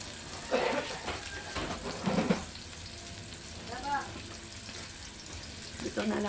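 Chopped garlic sautéing in a noisy kawali pan while a ladle stirs it, giving bursts of close sizzling and scraping that come and go, with brief quieter gaps and faint voice in the background.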